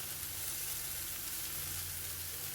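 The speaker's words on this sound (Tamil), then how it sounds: "திரும்ப தேங்காய் பூவோட சலசலப்பு குறையட்டும்" Cluster bean usili with grated coconut sizzling steadily in a pan, a soft continuous frying hiss with no talk over it.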